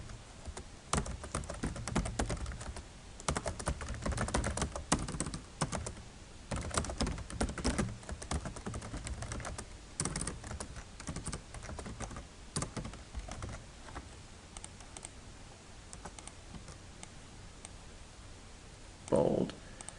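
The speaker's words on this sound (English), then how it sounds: "Well, you gotta type it again." Rapid, steady typing on a computer keyboard, close and distinct clicks running almost continuously with a few short pauses, while someone talks over it.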